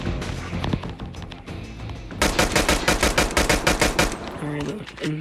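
A pistol fires in a video game in a rapid, evenly spaced volley of about a dozen loud close shots, preceded and followed by softer game sounds.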